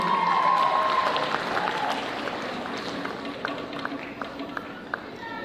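A crowd at a dance performance claps and cheers for the dancers, a dense, steady wash of applause that slowly eases off, with a few brief whoops rising above it.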